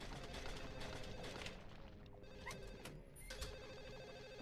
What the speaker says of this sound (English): That's the phone! That's the phone!